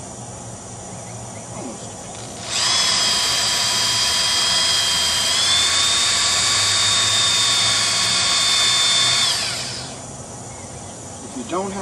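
Electric drill spinning a nail to twist wire into a Mobius coil, a steady high whine that starts abruptly, holds for about seven seconds and winds down, with faint low talk underneath.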